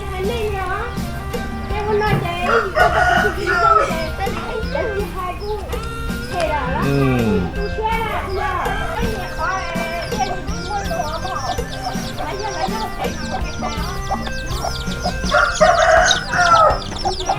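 Free-ranging farm chickens and roosters mingle with ducks outdoors in rural Thailand or Laos, giving repeated loud crows and busy clucking throughout, with people talking alongside.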